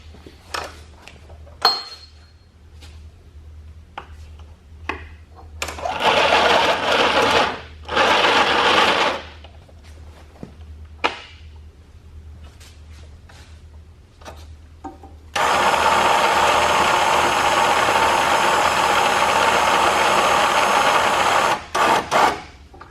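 A repaired Ramsey winch runs in bursts after a teardown and fix, its motor whining loudly for a few seconds at a time between quiet stretches of clicks and handling noise, ending with one long continuous pull.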